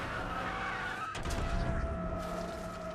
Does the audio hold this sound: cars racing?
yes